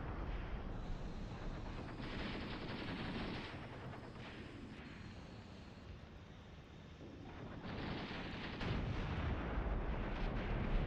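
Dense, continuous artillery and gunfire rumble through an armored battle in a video game set in the Iran-Iraq War, with heavy booming blasts layered over steady, loud battlefield noise.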